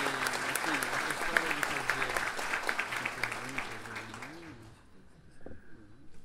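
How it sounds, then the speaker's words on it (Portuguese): An audience at an evening event on fighting corruption applauds to welcome a speaker, with steady clapping and voices over it before it fades out near the end. "recebendo o nosso carinho, os nossos aplausos"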